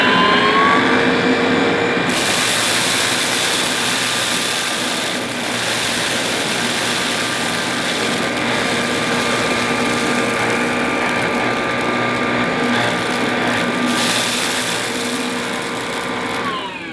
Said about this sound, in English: we're going to pass the Hoover Sprint forward and back through the middle, see if it copes with the rice, the lentils and the rolled oats